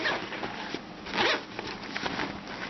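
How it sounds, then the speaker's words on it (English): A zipper on the smaller compartment of an Eastpak daypack is pulled in a few quick, close, rasping strokes, with a louder sweep in the middle and no talking. "It has a zippered smaller compartment here."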